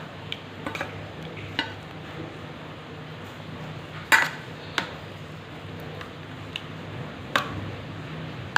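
A spoon stirs banana pieces into yogurt raita in a bowl, a soft, continuous scraping with a few sharper clinks against the dish spaced through the quiet background.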